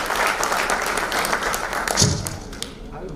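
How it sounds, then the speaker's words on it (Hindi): An audience at an agriculture conference in Bhopal claps steadily to welcome a speaker, a dense patter of applause with a thump partway through and voices under it. "जोरदार तालियां से राष्ट्रीय अध्यक्ष मनमोहन कलंत्री जी को स्वागत करें।"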